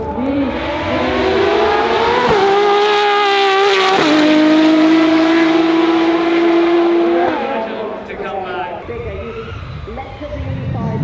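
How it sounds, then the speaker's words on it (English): A Pagani race car with a Mercedes-developed V12 screams past at the Goodwood Festival of Speed, a loud high-revving engine note with rising and falling pitch through gear changes, close and dominant before fading slightly at the end. "Of Pagani's own Mercedes-developed V12, and it sounds wonderful."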